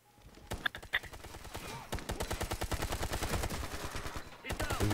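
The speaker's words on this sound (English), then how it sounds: "Dude, I'm getting shot." Rapid automatic gunfire from a Ghost Recon: Future Soldier firefight during the Invisible Bear mission, sustained bursts growing louder and nearly continuous after a sparse start, with a voice talking briefly underneath.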